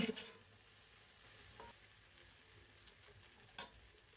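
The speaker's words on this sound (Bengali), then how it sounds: "মাছটা দিয়ে এখন নেড়ে চেড়ে উল্টে পাল্টিয়ে দিব" Quiet, low sizzling of tengra fish frying in a pan with a couple of short scraping stirs, one near the start and another sharper one toward the end.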